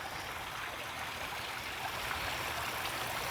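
Water pouring over a small backyard pond waterfall and out of a bog pond, a steady close rushing splash with constant trickling, alone and unbroken.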